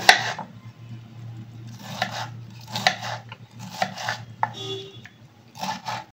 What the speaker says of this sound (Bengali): এটা রান্না হতে হতে আমি এদিকে টমেটোটা কেটে নিচ্ছি